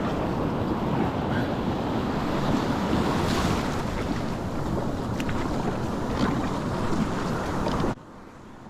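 Ocean surf breaks on the shore at a kayak launch, a continuous loud rushing wash of waves mixed with gusty wind buffeting the microphone, cutting off abruptly near the end.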